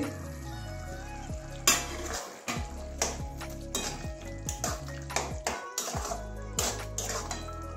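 A spoon scrapes and clatters in a pan as boiled drumstick seeds are stirred into a simmering mix with snails, with repeated rhythmic strokes over a soft sizzle, close and clear, with no talking.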